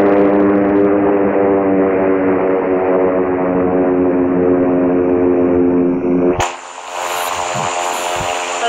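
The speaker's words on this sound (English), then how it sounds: "November 505 Lima Yankee is taking off runway 7 left," A simulated airplane in the Infinite Flight game roars loudly during its takeoff run on a runway, a steady droning engine that cuts sharply to a quieter, different tone near the end.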